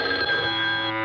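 A cartoon telephone bell rings in a steady, bright electric trill that holds for about a second at moderate loudness, with no one talking over it.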